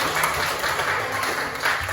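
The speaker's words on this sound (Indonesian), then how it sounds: "tepuk tangan untuk kelompok 3" A classroom of students gives a short burst of clapping for a group, a dense, moderately loud patter lasting under two seconds.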